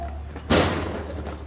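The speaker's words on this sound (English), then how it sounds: "when you close the door, it doesn't have a nice thunk as much as a clang" A 2021 Toyota Yaris car door shuts with a sharp metallic clang rather than a dull thud, ringing briefly over a low background hum.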